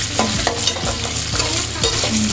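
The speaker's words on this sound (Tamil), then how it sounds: "வெங்காயம் கொஞ்சம் பொரியணும்" Onions frying in a pan for fish curry hiss and sizzle loudly, with several spatula scrapes and stirs at a steady rhythm, close by and without talk.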